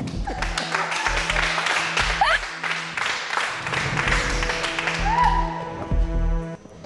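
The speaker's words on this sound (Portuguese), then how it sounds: "Uma salva de palmas pra vocês." Applause from a studio audience at a Viana variety show, a steady patter of many hands clapping for several seconds with some voices and music underneath.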